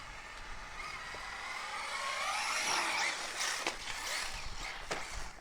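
A Traxxas Slash 2wd RC car races across a skatepark, its small electric motor whining up and fading as it passes, with scattered clicks and thumps from the wheels and landings.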